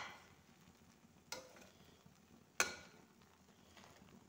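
Sweet jaggery rice (gur chawal) being stirred in a pot: a quiet, steady soft scraping with two sharp clinks of the spoon against the pot, no voices.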